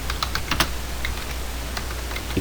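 Fingers tap quickly on a computer keyboard, producing a brief burst of close, clicky keystrokes over a steady background hum.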